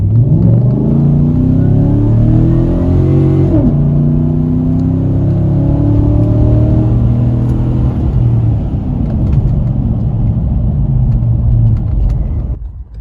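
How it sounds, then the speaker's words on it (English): A lifted Chevy truck with a naturally aspirated LS V8 pulling hard, a loud, deep engine roar climbing through the revs, shifting around the four-second mark and then climbing again, heard from close by. "that was a naturally aspirated Chevy LS V8."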